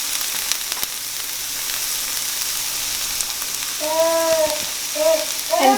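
Garlic and thyme sautéing in a pan with wilted vegetables, a soft continuous sizzle with a few clinks; a faint whistling tone rises near the end.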